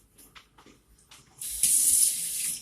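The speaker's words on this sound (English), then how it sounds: "I'm going to wash my hands" Hands being washed under a running kitchen sink tap, a few faint clicks and handling sounds and then a steady, close rush of water that starts suddenly and continues to the end.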